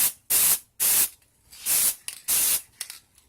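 NeverWet hydrophobic top coat sprayed from an aerosol can in four short, loud bursts of hiss separated by brief pauses, with faint handling clicks between passes.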